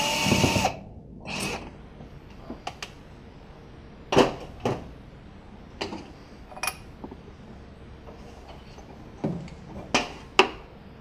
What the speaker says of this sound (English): So I'm going to have to back out those metal screws holding it in.